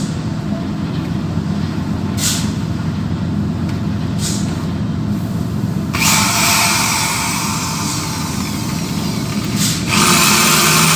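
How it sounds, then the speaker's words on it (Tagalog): Power drill boring holes through the steel-backed brake lining of a ship's anchor brake during replacement, a loud steady grinding whine with the pitch jumping higher as the bit bites in, close and continuous. "Ito 4 kailangan barinahan."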